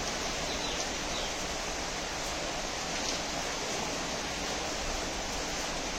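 Steady outdoor rainfall on a house yard, an even broad hiss that holds constant for several seconds at moderate distance, with no voices.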